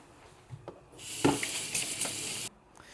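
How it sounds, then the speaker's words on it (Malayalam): Ingredients for a Mexican baked fish being stirred together in a bowl, a brief wet, hissing swish of mixing that swells for about a second and a half over quiet kitchen background, with no talk. "മിക്സ് ചെയ്യാം"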